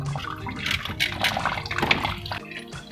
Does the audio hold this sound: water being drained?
yes